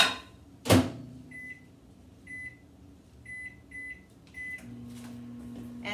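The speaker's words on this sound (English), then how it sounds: "So I'm going to melt this in the microwave." A microwave oven runs to melt chocolate, with a steady low hum, a sharp clunk of the door early on and several short high beeps spaced through the run, close by with no talking.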